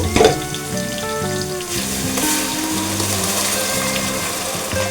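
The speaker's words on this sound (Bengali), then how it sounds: "এখানে আছে শুকনা লঙ্কা তেজপাতা মিশ্রণ আদা রসুন এই মিশ্রণটা আমি এখন ঢেলে দিব" Dry chili, bay leaf and a ginger-garlic mixture sizzle and crackle in hot oil at close range, a steady frying hiss that runs throughout with no voices over it.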